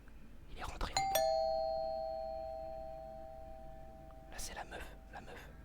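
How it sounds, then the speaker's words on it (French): A doorbell in the horror video game Fears To Fathom chimes once with a bright ding that rings out and slowly fades over several seconds, with a voice speaking just before it and more voices returning near the end. "C'est la pote de la daronne qui est en train de sonner."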